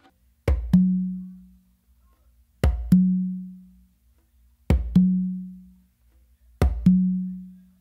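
Hand drums in a pachanga pattern: a low bass tone on the conga followed quickly by a ringing open tone on the tumba, the pair repeated four times with pauses, close and alone.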